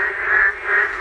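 A dense chorus of thousands of frogs calls from wet, reedy ground beside a cattle farm after days of rain, a continuous droning croak that swells twice, loud and unbroken with no talk.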